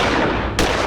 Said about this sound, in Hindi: मैंने मौका पाते ही विवेक पे गोलियां दाग दी